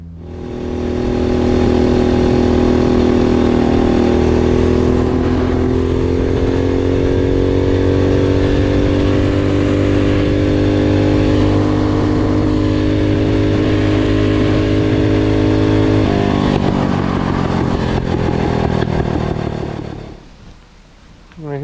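A Go Power Sports Rascal mini bike's small engine runs loud and close for about twenty seconds, holding a steady buzzing drone with slight pitch shifts before cutting off abruptly.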